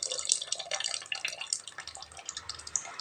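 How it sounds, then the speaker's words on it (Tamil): Tamarind water poured into a pot of broad beans kulambu, a close, fine splashing and dripping with small irregular liquid spatters, no talking. "இப்போ புளித்தண்ணி கொஞ்சம் சேர்த்துக்கலாங்க"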